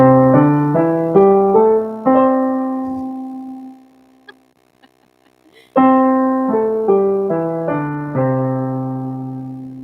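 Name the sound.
piano playing pentatonic scale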